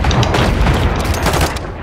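Gunfire in the Call of Duty video game, a dense loud volley of shots and booms filling the whole moment without pause, no voices over it.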